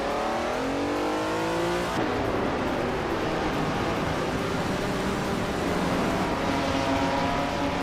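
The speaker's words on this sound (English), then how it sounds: "Dale Earnhardt is driving a 1969 Chevrolet Camaro Z L1" A 1969 Chevrolet Camaro ZL1 roars through a racing video game, its engine revving steadily and loudly, with a gear change early on and continuous close engine drone throughout.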